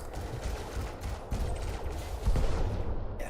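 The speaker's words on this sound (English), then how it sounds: "Yeah, multi-cannon for the defense turret." Multi-cannon fire against a defense turret during a ground mission in Elite Dangerous, a dense rattling stream of rapid shots, loud and close, with no talking.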